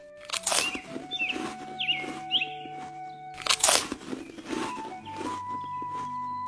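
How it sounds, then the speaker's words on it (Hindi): A giraffe chews leaves from trees, crunchy, rustling bites coming in two bursts of repeated munching over soft sustained tones. "जिराफ पेड़ों से पत्ते खा रहा था।"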